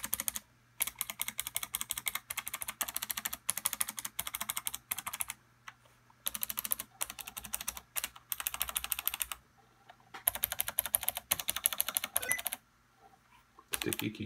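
A Razer Ornata Chroma keyboard is typed on in quick, close bursts of crisp, clicky keystrokes, with short pauses between runs and a few single taps on the main keys.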